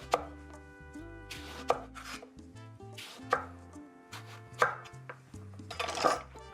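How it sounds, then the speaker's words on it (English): A firm eggplant, partly peeled, is cut into slices with a knife on a board, giving a steady run of sharp chopping knocks about once a second, each crisp and close, with music playing underneath. "I just sort of peel it halfway and then make the nice slices"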